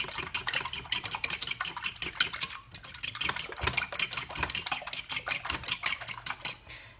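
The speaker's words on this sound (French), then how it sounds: "vous allez casser les œufs dans votre saladier et les battre" Eggs beaten in a salad bowl for a potato and bacon tortilla, a steady fast rhythmic tapping and clattering of a whisk or fork against the bowl, close and continuous with a brief pause midway.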